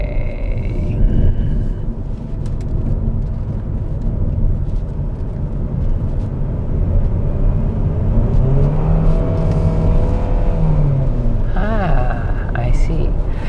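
A Mitsubishi XFORCE accelerates through a corner in wet mode with a steady, loud road and engine rumble, while people talk inside the cabin.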